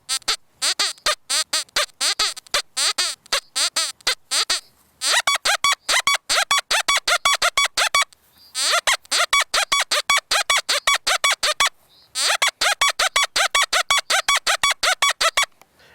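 An XP Deus metal detector sweeps over iron targets, including a knife blade fragment and a large nail, giving rapid clusters of sharp, squeaky electronic beeps in bursts, separated by brief pauses.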